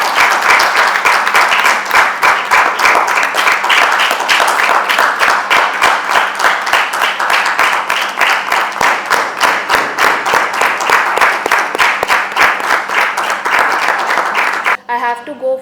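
Sustained, dense audience applause at a Mother's Day event, loud and close with rapid overlapping claps throughout, cutting off abruptly near the end.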